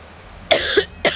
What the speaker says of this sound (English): Sorry about my cough, guys.